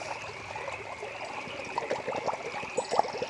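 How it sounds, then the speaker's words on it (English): Creek water trickling into a 1-liter water bottle, a steady close gurgle and splash over the continuous rush of the flowing stream outdoors. "I'm going to get a little bit of water out of this creek here in my trusty 1-liter water bottle"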